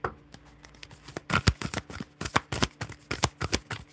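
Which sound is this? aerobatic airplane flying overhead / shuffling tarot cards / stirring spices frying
shuffling tarot cards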